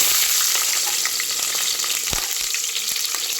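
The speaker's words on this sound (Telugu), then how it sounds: "ఉల్లిగడ్డ ఇవి కూడా వేసి మంచిగా గోల్డెన్ బ్రౌన్ కలర్ వచ్చేంత వరకు మంచిగా వీటినంతా వేయించుకోవాలి" Green chillies and onions fry in hot oil with whole garam masala spices in a pan, a loud, continuous close sizzle with a few soft stirring knocks and no talking.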